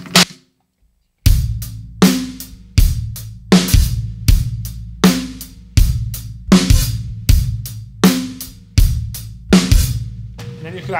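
Steady drum kit groove in which the hi-hat opens on the 4E sixteenth note, giving a repeating pattern of crisp kick, snare and hat hits with a sizzling open hat each bar, loud and close after a short silence.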